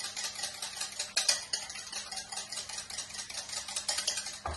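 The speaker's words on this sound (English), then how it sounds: "just whisk it up again, make sure all that mixture's mixed in" Eggs with a little pepper whisked in a bowl, a steady run of quick, light scraping and tapping strokes close by, moderately loud, with no talking.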